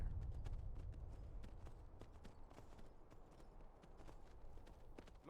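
A horse gallops in the video game Skyrim: a rapid run of sharp hoofbeats on hard ground over a low rumble. It is fairly faint and steady, with no speech.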